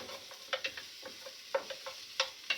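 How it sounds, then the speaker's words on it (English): Onions sweating in a pan for risotto, heard as a soft, faint sizzle broken by intermittent clicks and light scrapes of stirring. "So I just want to sweat these onions down so they'll cook."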